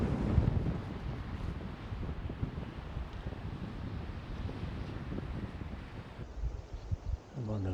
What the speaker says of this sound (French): Comme dit, il y a un peu de vent